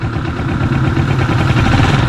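A 2024 Honda TMX 125 motorcycle idles in neutral, its engine close and loud with a steady, even chugging throb that holds throughout.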